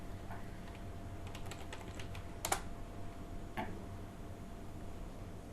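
Keys on a computer keyboard clatter in a short burst of typing, then a couple of isolated taps, all faint over a steady background hiss with no talking.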